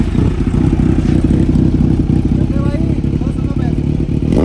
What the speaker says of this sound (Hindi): तो भाई एक बार अपनी बाइक की भी सुनाते हैं आवाज़